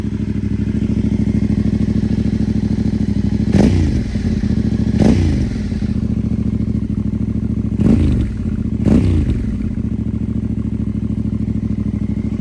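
A Yamaha Tenere 700 with an aftermarket Wings exhaust idles on a cold start with a deep, loud, uneven rumble, punctuated by four sharp throttle blips that bark and fall back to idle.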